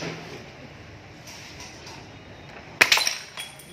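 A beer bottle's bottom snaps off under bare-handed force, a single sharp glassy crack with brief clinking debris late in the moment, standing out loud against a quiet, hissy room background.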